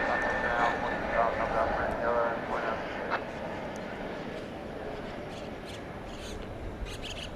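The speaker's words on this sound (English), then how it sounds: "Another CRJ, this one is CRJ 701ER from San Angelo," A CRJ 701ER regional jet at DFW Airport makes a continuous low, distant engine roar and rumble, fairly steady and fading slightly, heard under a voice talking.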